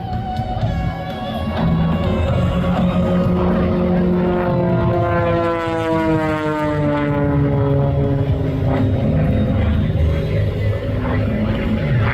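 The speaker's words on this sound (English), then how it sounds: "Steam Company is going to be pulling plus and minus up to 10 G's in the Fury biplane." A Fury biplane flies aerobatics at an outdoor air show, its propeller engine droning loudly and steadily throughout, with pitch rising and falling in long sweeps as it pulls high-G maneuvers and passes by.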